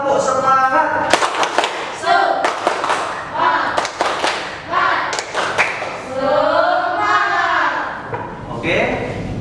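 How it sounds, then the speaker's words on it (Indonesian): A classroom of children performs a rhythmic spirit clap, bursts of sharp hand claps in quick patterned groups mixed with loud chanting young voices, near and energetic throughout. "Coba sekarang tepuk semangat."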